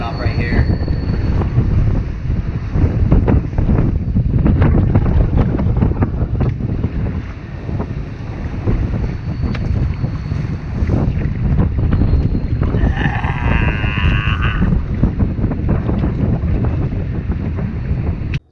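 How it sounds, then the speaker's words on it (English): Strong headwind batters the microphone while kayaking on the Mississippi River, a loud continuous low roar and buffeting rumble that persists throughout with brief gusty surges. "we got a nasty headwind coming up right here"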